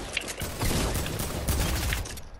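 Rapid bursts of gunfire in an online shooter video game, dense crackling shots packed closely together and fairly loud throughout, with no talking.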